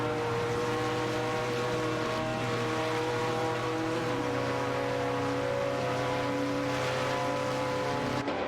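Game race car engines, among them a Mazda 787B in a tight tussle for position, hold a sustained, buzzing drone with slight pitch changes, steady and loud the whole way, no speech.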